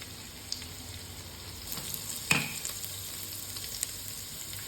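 Garlic dropped into melted butter in a pan for vegetable pasta, giving a steady soft sizzle and crackle with a brief louder burst near the middle, no talking.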